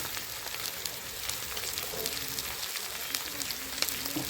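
Koika sea fish seasoned with salt and turmeric fries in hot oil, giving a steady, even sizzle and crackle that carries on without pause at moderate loudness.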